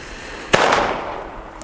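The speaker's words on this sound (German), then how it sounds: "als nächstes kubische Kanonenschläge" A single cubic firework salute (Kanonenschlag) explodes outdoors with one sharp, loud bang and a rolling, fading echo, followed by a faint distant pop.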